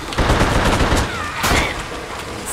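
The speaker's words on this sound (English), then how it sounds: "Tommy gun for this one." Rapid automatic Tommy gun fire in the horror shooter The Suffering, a dense burst of loud, crackling shots with an echoing tail, a short sharper report cutting in near the end.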